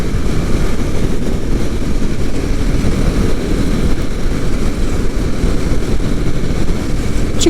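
A Husqvarna Svartpilen 701 motorcycle pulls in sixth gear, its engine a loud, continuous low drone mixed with dense wind rush, steady throughout without breaks.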